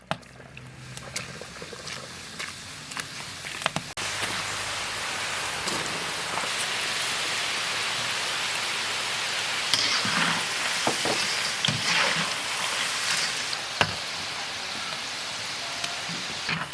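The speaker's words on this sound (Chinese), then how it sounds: "油温4趁热，下入面花炸。" Dough flowers dropped into hot oil and deep-frying, a dense, steady crackling hiss that swells after the first few seconds and continues with scattered sharper pops throughout.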